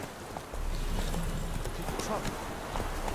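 Roach, a horse in the Witcher 3: Wild Hunt video game, gallops with a steady, rapid clip-clop of hooves that swells after a brief quieter start and runs continuously, with talk mixed in.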